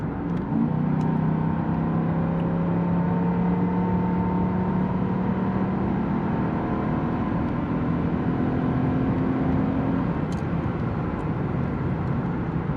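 A car engine driven hard under load, a steady droning hum with rising engine tones heard from inside the car, loud and continuous with no voices.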